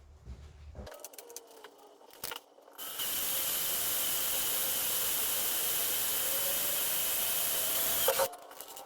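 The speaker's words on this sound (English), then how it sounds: "So first I'll start with a little pilot drill." A drill whirs steadily for several seconds at close range, boring a small pilot hole in aluminium, preceded by brief clicks and handling noises, then stops abruptly.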